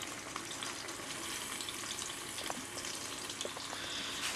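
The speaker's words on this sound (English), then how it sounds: "we'll drop the lamb into the fry pan once the veggies are in here. We'll give it a bit of a sear" Lamb and vegetables sear in a fry pan on a survival stove, giving a steady close sizzle and frying hiss with faint clinks and stirring over the top, and no voices.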